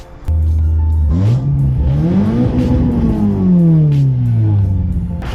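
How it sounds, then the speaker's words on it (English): A Toyota 4A-GE naturally aspirated four-cylinder engine in a Corolla AE92 GTS idles low, then revs up high and winds back down, loud and close, with no talking. "the 4AGE was one of the best NA sounding 4-cylinder engines out there"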